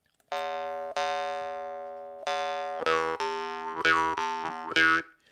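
A jaw harp twangs in a series of ringing plucks, first slow sustained notes then quicker rhythmic strums, each tone humming and decaying, close and loud.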